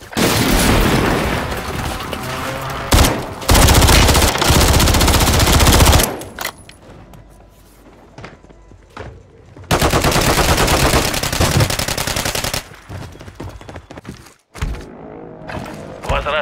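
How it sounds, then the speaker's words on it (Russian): Heavy gunfire and explosions in the Call of Duty Warzone 3 multiplayer mode on the Vondel map, with loud bursts of automatic fire and booms, a lull of quieter sounds, then another intense barrage. "По мне стреляют."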